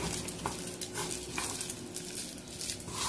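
Homemade fish bait mixed with honey being stirred, a soft continuous wet scraping and sloshing that holds steady throughout with faint clinks, no voices.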